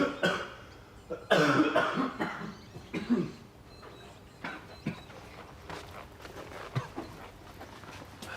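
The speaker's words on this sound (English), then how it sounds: "Sorry about all the coughing." Several close, raspy coughs burst out near the start, followed by quieter scattered knocks and shuffling sounds, with no talking.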